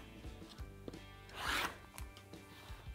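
A rotary cutter slicing red and cream quilting fabric into strips against a ruler, a quiet close scrape that swells into one brief rasping pass midway, surrounded by soft taps and shuffles.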